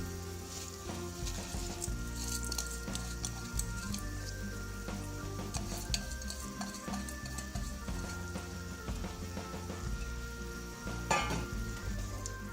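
Rice for mushroom biryani being stirred in a pot of boiling water, a steady bubbling sizzle with soft scraping and clinks throughout, close and fairly loud.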